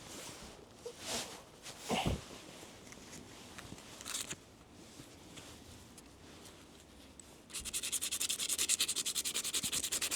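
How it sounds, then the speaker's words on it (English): Sandpaper of P100 grit rubbing along the edge of a cutting tool, soft intermittent scratchy strokes that turn into a faster, louder run of rasping back-and-forth strokes near the end. "So we're going to sand the edge."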